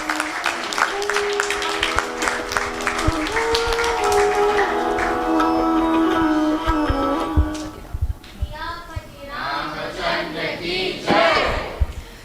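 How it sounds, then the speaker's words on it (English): Audience applause for the cast of a Divali religious program: clapping and cheering from a gathered congregation over sustained music and voices, followed by excited vocal shouts and renewed clapping toward the end. "Please give a round of applause"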